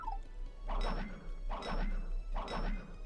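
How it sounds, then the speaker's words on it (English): Costume sound effect in the video game Paper Mario: The Thousand-Year Door, three evenly spaced clinking, glassy bursts, each a short jangly clatter, fairly quiet and alone. "Sounds like glass clinking."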